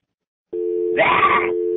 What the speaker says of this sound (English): it's that dial tone kicks in, you know?